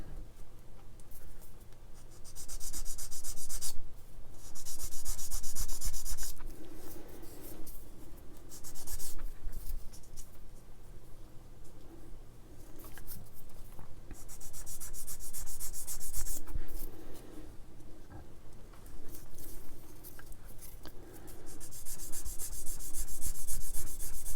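Light, steady rubbing of a sander over a plastic Tamiya LaFerrari scale model body, coming in uneven scratchy passes with brief pauses between strokes, close and fairly quiet.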